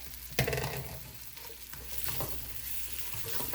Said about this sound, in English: so now we're just going to add our veggies. Let's go ahead and add our onions.